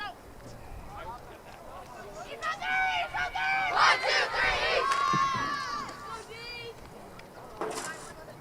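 Crowd of spectators at a Tuesday-evening girls high school flag football game between Sachem East and Ward Melville, with cheering voices and shouts swelling in the middle, loud and close, mixed with chatter.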